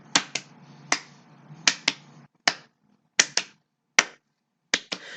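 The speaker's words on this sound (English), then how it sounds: "Double claps." Sharp, crisp hand claps ring out in pairs and singles, about a dozen distinct strikes close by with short silent gaps between, no voices.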